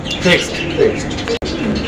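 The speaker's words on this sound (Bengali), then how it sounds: "চমৎকার আরও এক জোড়া রেসার কবুতর" Low, soft coos from a pair of racing pigeons repeat a few times over a steady background hiss, close by and moderately loud.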